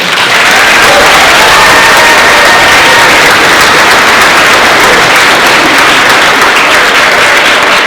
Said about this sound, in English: how about a quick round of applause for our 8th graders?